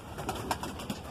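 A male Madrasi pigeon coos softly close by, a few low, gentle calls spread across a quiet background.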